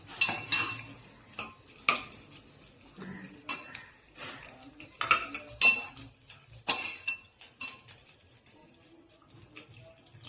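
Vermicelli stirred and roasted with dry fruits in a pan, giving irregular metallic scrapes and clinks of a spoon against the pan with faint rustling in between, close and fairly quiet.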